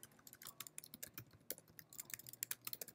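Close, quiet tapping on a computer keyboard, a quick uneven run of soft key clicks with no voice over it.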